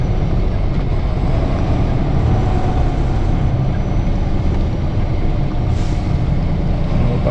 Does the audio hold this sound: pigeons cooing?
no